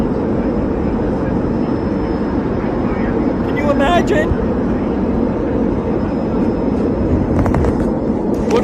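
Loud, steady airplane cabin engine roar fills an aircraft during a smoke incident, a constant broadband drone with brief clinks and voices talking over it.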